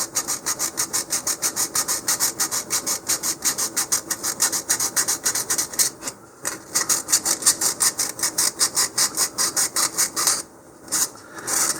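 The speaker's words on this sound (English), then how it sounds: "let's take a little bit of sandpaper and remove that" Sandpaper rubs rapidly back and forth over a small blob of dried super glue on a high-power model rocket part, a steady rasping rhythm of quick strokes with two brief pauses, close and clear.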